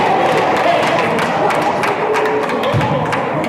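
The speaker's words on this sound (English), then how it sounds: "The Ascension Episcopal crowd with a sarcastic bit of applause" Scattered, half-hearted clapping from the Ascension Episcopal home crowd in a high school basketball gym, dense crowd murmur and chatter throughout with a dull thud near the end.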